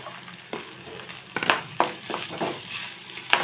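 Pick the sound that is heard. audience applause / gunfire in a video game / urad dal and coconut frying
urad dal and coconut frying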